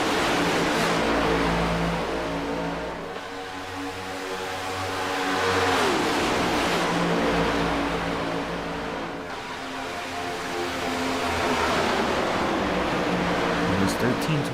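Stock race cars, including the 33 Sunoco car, racing in a pack at Daytona, a steady loud engine drone swelling and easing as cars pass, under continuous excited commentary.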